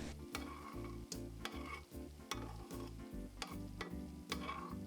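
Bacon frying crisp in a pan, a close, steady sizzle with regular rhythmic crackling pulses and occasional sharper pops, no talking.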